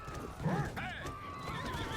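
The horse of a mounted musketeer whinnies during a video game siege battle, a short neigh with hoof sounds amid battle noise, while someone talks over it.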